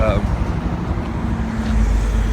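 Continuous road traffic roar on a city street heard by a pedestrian, steady engine and tyre rumble passing close, with a brief voice at the start and a louder vehicle swelling near the end.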